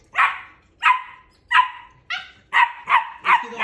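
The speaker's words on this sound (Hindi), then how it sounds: "क्या हुआ, भौंक क्यों रही" German Shepherd and Husky puppies barking in a run of about seven short, high yappy barks, close and clear with brief pauses between them.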